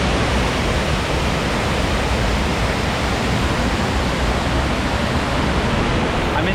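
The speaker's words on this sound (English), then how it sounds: "Seneca Falls. It just keeps going and going and going all the way down." Seneca Falls in Ricketts Glen, Pennsylvania, sends down a loud, unbroken rush of falling water heard up close, a dense, even roar that holds steady throughout.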